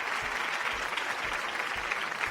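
A studio audience at a televised contest claps steadily for a departing contestant, a dense, even round of applause filling the whole moment.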